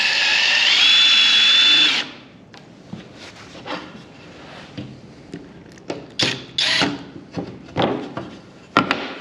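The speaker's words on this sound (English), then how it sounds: "we're pre-drilling the holes since we are fastening this Boral to concrete" A power drill bores pilot holes into concrete to fasten Boral siding, opening with a loud two-second whining burst, then giving way to a series of short, sharp drilling and tapping bursts.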